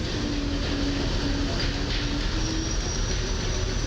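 A Polish EN71 electric multiple unit train passes at a city station while it is under renovation, giving a steady loud rolling rumble with faint wheel squeal and no talk.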